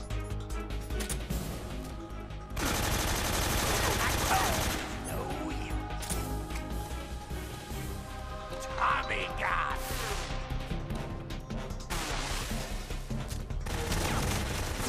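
Gunfire sounds out during a boss fight in the video game Metal Gear Solid 3: Snake Eater HD, with rapid, dense bursts of shots over a continuous game soundtrack, steady throughout and fairly quiet overall.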